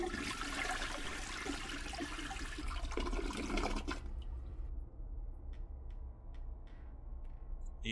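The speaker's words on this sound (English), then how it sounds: "Why did I have to flush the toilet?" A video game toilet flushing, a loud rushing gush of water that runs for about four seconds before dropping away to a quiet trickle with faint drips.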